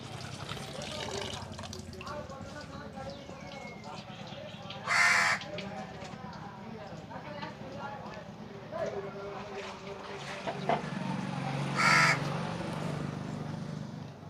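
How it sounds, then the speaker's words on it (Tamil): A crow caws twice, loud and close, amid steady background noise with people talking. "காக்கா காக்கா வந்து இங்கே உட்காந்து"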